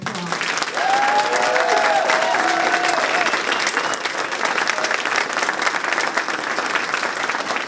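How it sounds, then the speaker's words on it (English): Sustained audience applause fills a storytelling festival hall, loud and dense from start to finish, with a brief voice sounding at the very beginning before the clapping swells. "Give them another round of applause."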